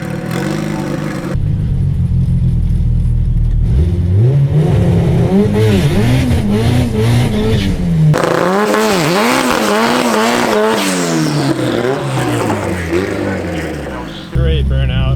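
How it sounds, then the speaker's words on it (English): A Honda Civic with a fully built LS VTEC engine does a drag-strip burnout, the engine revving hard and rising in pitch over a long stretch of squealing, warbling tires, loud and close. "Great burnout."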